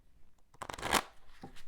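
A pirate-themed tarot deck being shuffled by hand up close, a quick riffling burst of cards followed by a shorter second shuffle, with no talking.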